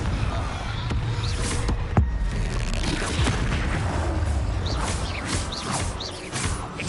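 A Confringo blasting spell explodes in a Harry Potter video game played on PS4. A sharp boom cuts through a continuous, noisy game soundscape, followed by further rumbling bursts.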